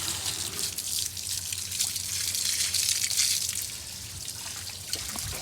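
Water runs and splashes while retted flax is rinsed outdoors, a continuous close trickling and dribbling with small irregular splashes rising and falling in strength.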